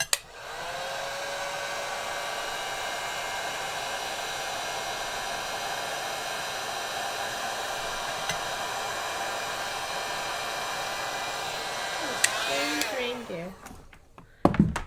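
Steady airy roar of a tool for welding chunks of sculpted keycap material together, running continuously for about twelve seconds before winding down with a falling whine. One word is spoken over the noise.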